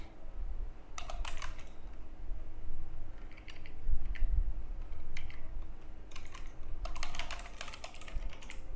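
Keys clatter on a computer keyboard in irregular bursts of typing separated by short pauses, close and fairly loud over a faint steady hum.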